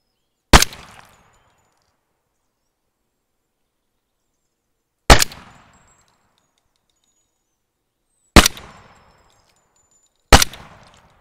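Four sharp, loud gunshots from a first-person survival game, widely spaced and each ringing out briefly in an otherwise quiet scene.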